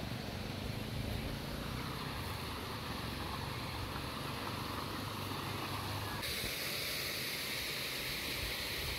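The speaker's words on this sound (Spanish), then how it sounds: "Miren la cascada, el río." A waterfall and river in the green ravine of Quebrada Honda, Joyabaj, Quiché, give a constant broadband rushing hiss, loud and unbroken from start to finish, with no talking over it.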